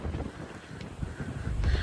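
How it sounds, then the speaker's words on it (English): Strong wind buffeting a beach at Barra in the Outer Hebrides, a steady close roar with gusty rumbling bursts against the microphone, no voices. "You can see how windy it is because you can see the sand blowing."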